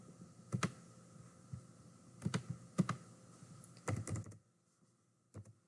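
Someone types figures into a computer keyboard, several quick clusters of soft clicking key presses separated by brief pauses, then a short final burst after a quiet gap.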